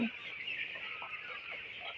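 Sixteen-day-old broiler chickens in a poultry shed, a dense continuous chorus of high chirping and clucking from many birds at once, steady and fairly close throughout.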